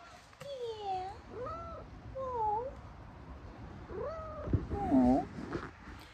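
A cat meows several times up close during a relaxed home chat. The calls are short, rising and falling, and come in a loose series with quiet room sound between them.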